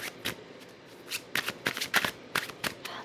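Tarot cards are shuffled by hand, a run of quick riffling bursts and soft slaps coming close and fairly quiet, clustered more densely toward the middle.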